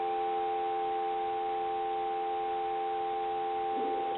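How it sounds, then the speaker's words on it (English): A steady, continuous dial tone from an old Stromberg Carlson hotel telephone hums without interruption, close and clear, with a faint click near the end. "Give you some dial tone."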